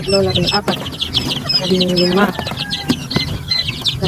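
Young quail chicks in a brooding cage, chirping and peeping busily up close in a dense, high-pitched chorus with some deeper clucking from nearby fowl, and a voice talking over them.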